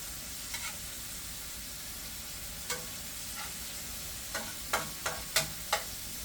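Onions sizzle on a grill with a soft, steady hiss, while a few sharp scrapes and taps from a utensil cluster toward the end. The sound is fairly quiet and there is no talking.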